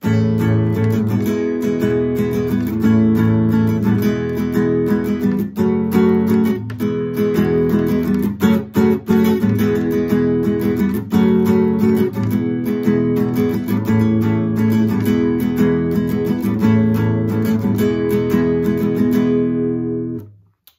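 An acoustic guitar strums a steady chord progression from a song, loud and full, with rhythmic strokes and a few brief pauses, ending with a quick fade.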